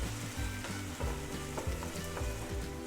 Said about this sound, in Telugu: ఇందులోనే మనం అల్లం వెల్లుల్లి పేస్ట్ కూడా వేసుకొని మళ్ళీ ఒకసారి దీన్ని కలుపుకుందాం.